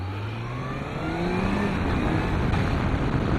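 A 2009 Honda CBF 1000 motorcycle accelerates steadily, its engine note rising in pitch and growing louder over a continuous roar, with no voices.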